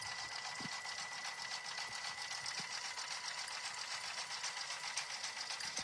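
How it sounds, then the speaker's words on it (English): An embroidery sewing machine stitches out a paw-print design on a mug rug, giving a constant, quiet mechanical whir with faint ticking throughout. "probably been watching this paw print stitch out now for probably 8 minutes"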